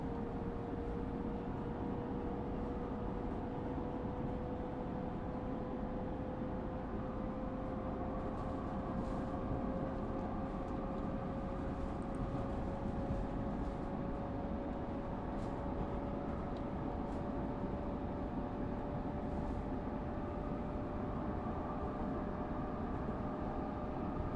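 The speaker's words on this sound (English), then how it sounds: "I'll let you guys listen to the run sounds and everything of the train whilst we're going" A train runs along the Northeast Corridor between New York and Trenton in Train Sim World 3, giving a continuous low rumble with a faint, slowly rising tone that holds steady for the whole stretch.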